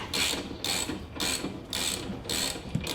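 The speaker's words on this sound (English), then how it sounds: "next we're going to loosen the rear shock absorber bolts, the lower ones" A ratchet clicks in five rapid bursts, close and fairly loud, while loosening the lower rear shock absorber bolts on a Harley touring motorcycle.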